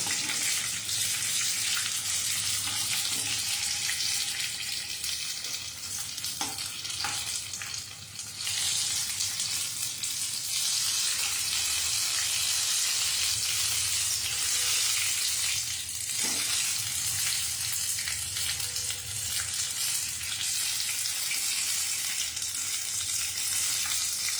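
Paneer pakoras fry in hot oil with a steady, bright sizzle close by, punctuated by a few brief clinks and stirring sounds, with no talking.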